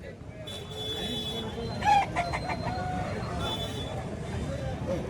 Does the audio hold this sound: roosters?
yes